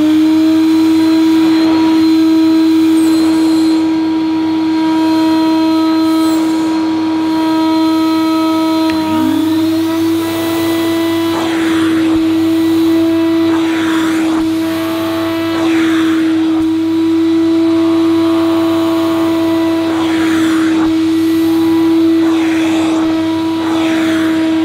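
A Hoover Futura 2000 commercial vacuum cleaner runs on one motor, a loud continuous droning whine with a strong steady tone that shifts pitch slightly partway through and carries faint rattles and knocks.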